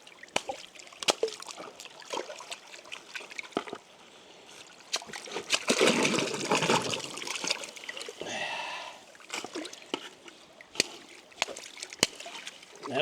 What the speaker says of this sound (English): The best way to get all that air out of there is just whack this thing against water a few times.